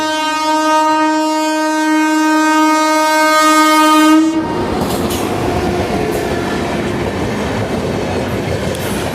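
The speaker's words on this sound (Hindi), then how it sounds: "ये ट्रेन हावड़ा पार हो रही है। इस ट्रेन का नाम हावड़ा ट्रेन है।" A Howrah train passing on the railway: a loud sustained horn blast for about four seconds, then the rushing roar and rattle of the cars rolling close by.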